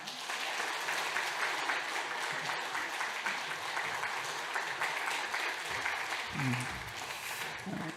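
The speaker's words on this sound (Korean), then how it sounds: "박수 부탁합니다." A church congregation applauds during a Sunday service, a sustained, even roar of many hands clapping at moderate level, with a brief low voice murmuring near the end.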